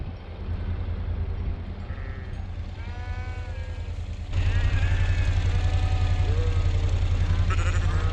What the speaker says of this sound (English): I was surrounded by a sea of terrifying, bloodthirsty sheep.